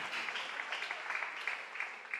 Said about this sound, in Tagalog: Malakas na palakpak para sa ating mahal na Panginoon.